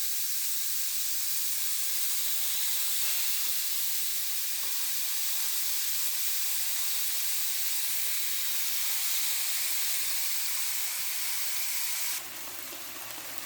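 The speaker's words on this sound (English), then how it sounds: "you can throw some water in there, and if it sizzles, it's up to temperature." Water thrown into a hot pan before cooking chicken gives a steady, fairly quiet sizzling hiss that continues evenly and drops slightly near the end, with no voices.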